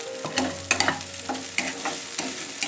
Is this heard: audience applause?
no